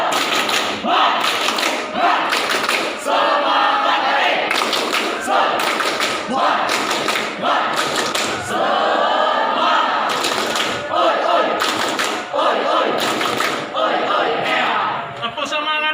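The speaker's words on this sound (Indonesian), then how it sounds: "Tepuk semangat." At an award and pennant ceremony for Paskibraka 2020 members in West Lampung, a crowd claps loud rhythmic patterned bursts of the spirit clap, with shouted group chanting between the clapping runs.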